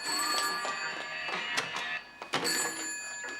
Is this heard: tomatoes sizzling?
no